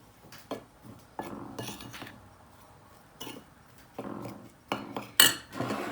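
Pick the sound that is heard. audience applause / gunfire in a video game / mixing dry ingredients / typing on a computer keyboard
mixing dry ingredients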